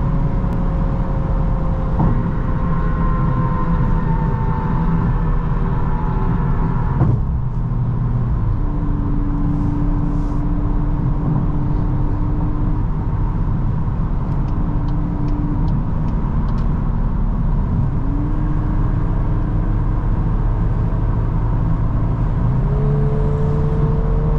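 A 2024 VW Golf R with a DSG dual-clutch gearbox pulls hard under sustained acceleration, its engine note rising steadily with a few gear changes along the way, heard from inside the cabin as a constant loud drone.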